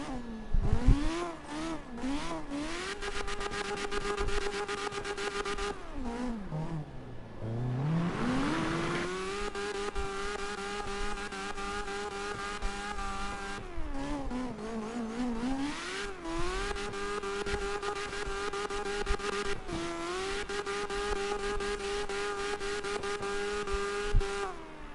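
A drift car in CarX Drift Racing revs hard and steadily through long slides, engine pitch rising and falling with squealing tires, continuous and loud without talk.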